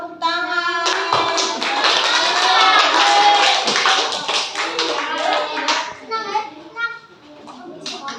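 Children clapping in a primary school classroom, a loose patter of small hands that comes and goes in uneven bursts, with young voices chattering over and between the claps.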